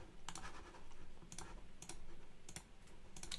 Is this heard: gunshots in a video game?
no